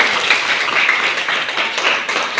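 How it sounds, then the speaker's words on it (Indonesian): Clapping in a classroom, a steady patter of many hands at moderate loudness that continues evenly throughout. "Ayo tepuk tangan untuk kita semua."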